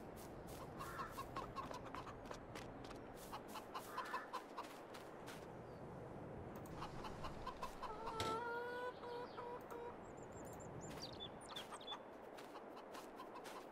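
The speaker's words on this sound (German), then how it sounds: "Ich will mal hier in den Hühnerstall reingucken, weil wenn da wirklich 1000 Hühner sind" Dense flock of chickens clucking inside a henhouse in the farming video game Farming Simulator 22, with constant overlapping clucks and an occasional louder rooster-like call rising above the steady crowd noise.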